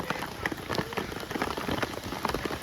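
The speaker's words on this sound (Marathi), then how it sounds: "चला आता पाऊस लय पडताय." Heavy rain falls steadily at the Savatkada waterfall in Rajapur, Konkan, a dense even patter of drops spread across the whole moment, fairly faint and unbroken.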